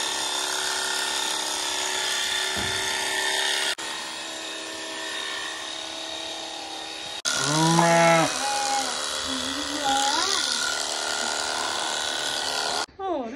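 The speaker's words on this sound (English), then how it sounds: "Okay, sheep shearing." Shears working on sweaty sheep during spring farm shearing, giving a steady mechanical buzz under people talking, with a sheep bleating partway through.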